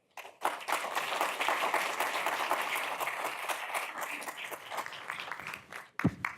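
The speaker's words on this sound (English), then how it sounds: "Please give Petar a round of applause" An audience at the ChileMass Innovation Day breaks into sustained, dense applause for speaker Petar Ostojic, a full wash of many hands clapping that holds for several seconds before stopping, followed by a single close thump.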